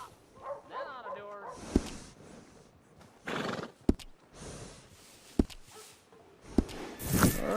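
In Red Dead Redemption 2 on PS4, a horse whinnies and snorts near the start, with hoof clops and sharp thuds scattered throughout, under a voice talking.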